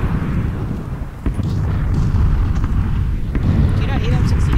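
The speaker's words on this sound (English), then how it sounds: "I just blew up the fucking building" A building blows up in an online squad shooter, a loud, rumbling explosion with broadband crackle and debris that rolls on for several seconds while players talk over it.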